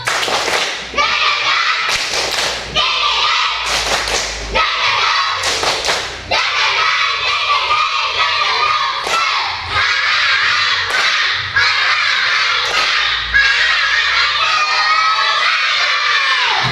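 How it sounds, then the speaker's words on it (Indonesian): Children in a classroom perform a rhythmic spirit clapping chant, with bursts of sharp claps and thumps in patterned groups alternating with loud shouted voices, close and energetic. "kita tepuk semangat dulu. Ya, tepuk semangat dan gendong."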